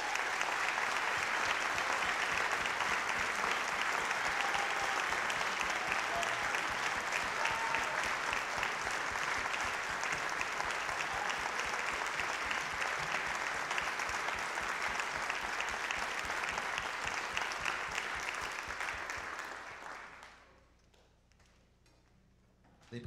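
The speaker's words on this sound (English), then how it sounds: "Let's give these folks a big round of applause." Audience applause at a high school instrumental concert, sustained dense clapping from a large crowd for about twenty seconds, then fading quickly to near silence at the end.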